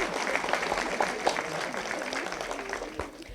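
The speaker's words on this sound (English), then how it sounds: "You may applaud, that's good." Audience applause at a high school college signing ceremony for athletes, a steady wash of clapping heard under a speaking voice and room chatter.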